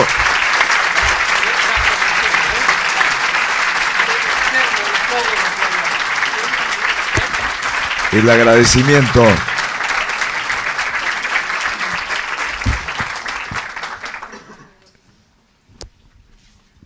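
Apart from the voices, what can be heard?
university audience applause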